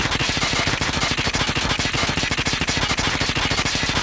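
A gun in the Call of Duty game Cordite fires one long, fast, unbroken automatic burst, loud and close, with shots evenly spaced from start to finish.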